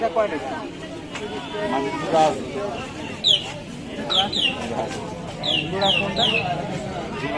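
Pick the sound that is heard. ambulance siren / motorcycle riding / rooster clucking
rooster clucking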